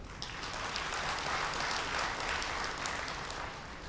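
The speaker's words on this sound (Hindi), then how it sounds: "तालियां तो बजाओ जरा।" An audience at a spiritual discourse breaks into steady, many-handed clapping that swells slightly mid-way and tapers off toward the end.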